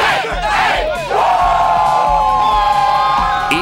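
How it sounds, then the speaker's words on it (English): Loud crowd of Texas A&M Aggies fans at a game-day tailgate, shouting, whooping and chanting together in bursts with a short break, close and energetic. "The Aggies were cheering and chanting as they get ready for"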